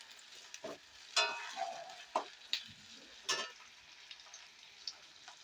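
Chopped onions, two green chillies and a tomato fry in a pan for beans fried rice: a soft, steady sizzle broken by several sharp scrapes and clatters as the pieces are stirred. No one speaks.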